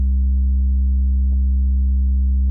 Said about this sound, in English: Sine Wave is a really great way to visually see and also kind of listen to what a saturator or compressor or whatever you're working with does to the signal